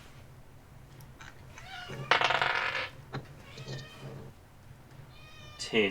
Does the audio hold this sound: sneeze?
no